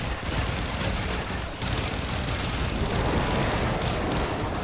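Rapid, dense gunfire from shooting at a boss in a video game, a continuous loud barrage with little pause.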